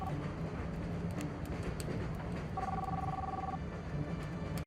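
A telephone rings once, a brief electronic tone sitting over a steady, rumbling background hum.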